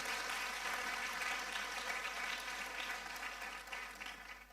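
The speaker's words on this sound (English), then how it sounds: "Can we give a better round of applause to Professor PLO?" An audience at a World Africa Day event applauds Professor PLO, a continuous wash of clapping heard at some distance, gradually thinning toward the end.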